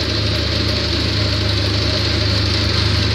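A combine harvester engine drones loud and steady under heavy load while harvesting rice in a waterlogged paddy, a constant throbbing rumble with no break.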